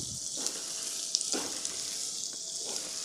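Vegetables with finely chopped cabbage frying in a pan over medium heat, a steady soft sizzle with occasional stirring scrapes, close and fairly quiet.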